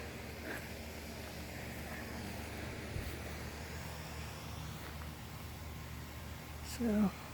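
A garden waterfall gives off a constant broadband rush of falling water, steady and moderately distant, with a faint voice briefly audible near the end.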